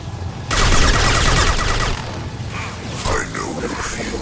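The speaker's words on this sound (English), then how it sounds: "I'm taking fire." Gunfire in Mass Effect 2, a loud sustained barrage of weapon fire and impacts that eases after a couple of seconds, with combat voices and effects layered over it.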